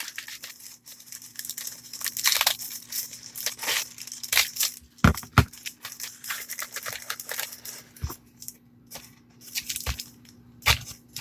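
Ball header skirt being trimmed, with a series of close, crisp snips and crinkling cuts in irregular bursts, a few sharper cracks standing out, no voices.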